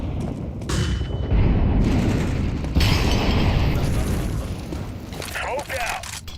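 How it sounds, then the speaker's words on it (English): Flashbang grenade detonating during a tactical video game match: a loud burst followed by sustained ringing noise and a high whine, with players talking over the chaotic gunfire-like din. "Flashbang."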